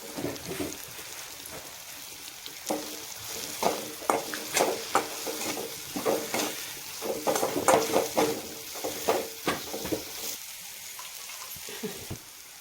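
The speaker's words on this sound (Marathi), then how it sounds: "आता थोडासा मसाला आणि मिरची पावडर टाकून देऊ आपण" Spices and chili powder are stirred into vegetables frying in a pan, giving a steady sizzle broken by repeated scraping strokes of the spoon at an irregular rhythm, close and moderately loud, with no talking.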